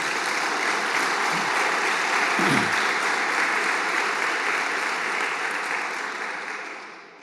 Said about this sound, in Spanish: Un aplauso de bienvenida al Señor.